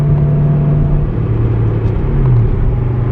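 A car cruises along a road, engine and tire rumble steady and loud from inside the cabin, with slight pitch shifts as it drives and no talk.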